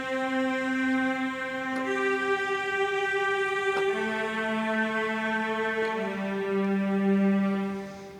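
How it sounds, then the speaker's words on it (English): A simple broken-chord melody played on a keyboard instrument, clear sustained tones stepping through arpeggiated notes one after another, alone with no talk. "I will play a very simple melody, kind of a broken chords"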